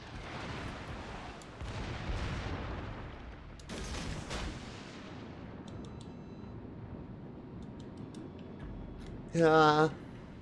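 Several torpedo hits land in World of Warships Legends as a string of deep booming blasts and rumbles, with one sharp burst near the start and a bright tonal alert near the end, all under steady engine and sea noise.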